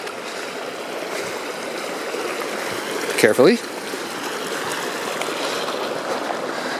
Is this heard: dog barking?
no